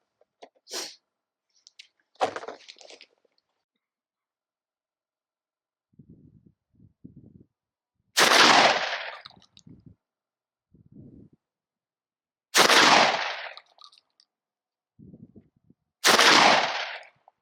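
A Derya Lion LP101 semi-automatic smooth-bore shotgun fires three loud, sharp shells at irregular intervals outdoors, with fainter clicks and handling noises of the action in between.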